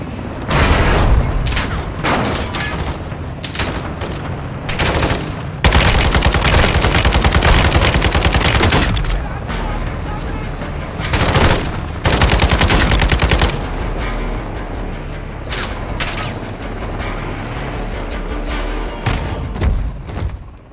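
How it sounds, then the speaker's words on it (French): Heavy machine gun fire in the Call of Duty Modern Warfare 2 video game, loud sustained bursts and rattling volleys with booms and thuds, near and dense for the whole stretch, broken by brief gaps, no talking. "Une mitrailleuse devant toi."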